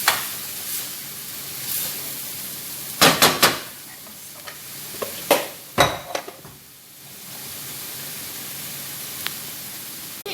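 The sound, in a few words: frying minced onion with meat in pan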